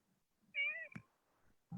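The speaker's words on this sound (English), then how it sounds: "Because your cat's meowing." A house cat meows clearly once in a drawn-out, rising-falling cry, close to the microphone, followed by a soft thump, in an otherwise quiet room.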